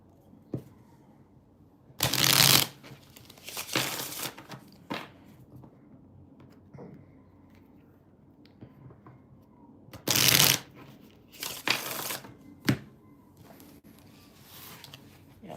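Tarot cards are shuffled in a few sharp, bright bursts of riffling with quieter card handling and soft rustles between them, close to the microphone.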